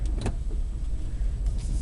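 A Peugeot iOn electric car pulls away from a stop toward a junction on a test drive, giving only a soft, steady low cabin hum and road rumble with no engine note.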